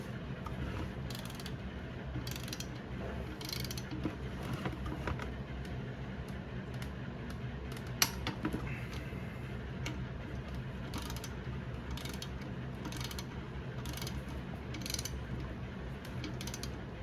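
A torque wrench set to 21 Newton meters tightens the wheel bolts of a Sur-Ron X electric dirt bike in a star pattern, with repeated ratcheting clicks in short bursts over a low background hum and one sharp click midway.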